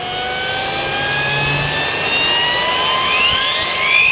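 An MD900 helicopter's turbine engine runs steadily, with a loud high-pitched whine whose tones slowly rise as it spools, over a constant rushing roar.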